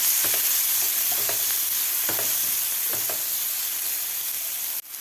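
Finely chopped medium tomato being sautéed in a pan for masala toast, a steady hiss of sizzling oil with a few soft stirring scrapes, close and continuous, ending abruptly.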